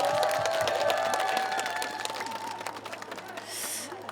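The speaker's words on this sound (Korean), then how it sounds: "박수 없으면 안 합니다" A live outdoor concert audience claps and cheers before a trot song at a city day celebration in Pohang, with a singer's tonal voice sustained over the start, the clapping dense and continuous, fading slightly toward the end.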